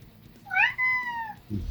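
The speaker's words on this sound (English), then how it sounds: "my cat is wondering what the hell's going on" A pet cat lets out one clear, drawn-out meow with a rising start and a long, steady tone, close and fairly loud, and a brief low sound follows it.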